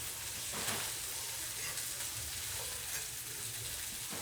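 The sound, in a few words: sausage, peppers and onions frying in a pan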